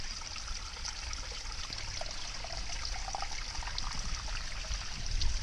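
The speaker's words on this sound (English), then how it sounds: "I'm just going to fill that up like so." Steady broadband rush of river water trickling and pouring into a container, continuous and close, with no talking.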